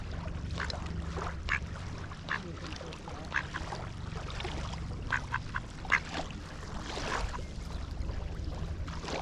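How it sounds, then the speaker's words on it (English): Ducks quack and dabble near carp fishing rods at a lakeside, feeding on dropped pack bait, with scattered close quacks over steady low outdoor rumble and some voices in the background. "The ducks came back and they're feeding on some of the pack bait that dropped when we casted."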